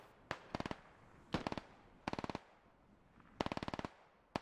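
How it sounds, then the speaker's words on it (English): Rapid bursts of gunfire and blasts in the tactical shooter SquadOps, arriving in several short clusters of sharp cracks separated by brief pauses, moderately distant and fairly quiet. "Someone just lobbed a rocket into the compound."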